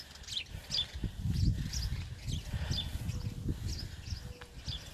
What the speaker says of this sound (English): And you hear the birds and the doves.